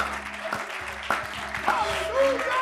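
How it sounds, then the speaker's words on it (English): A worship service congregation claps along during praise, irregular hand claps rising and falling under a faint sustained tone and murmured voices, fairly close and moderately loud. "Why don't we clap our hands and lift our voices?"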